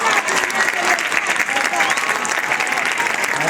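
Dense, steady applause from an audience cheering a firefighters' ladder drill in Cagliari, a continuous crackle of many hands that fills the whole stretch at a loud, even level.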